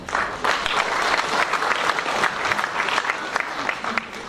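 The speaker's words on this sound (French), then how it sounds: "Merci d'applaudir les élus" Audience applause for elected members of a municipal council and children's council, dense and steady clapping from a crowd filling the whole stretch, fairly loud and close.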